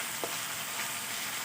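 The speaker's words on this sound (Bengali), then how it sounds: "আমি সবগুলো মাছই একবারে ভেজে নিচ্ছি।" A short burst of fish frying in a hot wok, steady close sizzling with a brief clink or stir near the start, no voices.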